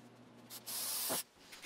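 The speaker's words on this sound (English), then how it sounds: "With it all sanded, I sprayed off the dust and got it ready for color." A steady burst of compressed air spraying sanding dust off wood hisses for about half a second, then stops after a brief puff, fairly close.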